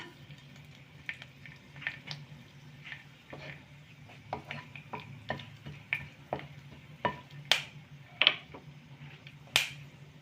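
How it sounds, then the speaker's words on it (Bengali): Cinnamon, large cardamom pieces and a clove frying in hot oil, a low continuous sizzle broken by irregular sharp pops and crackles that grow more frequent and louder toward the end. "আমি একটু দারচিনি একটু বড় এলাচের টুকরো আর একটা লবঙ্গ দিলাম"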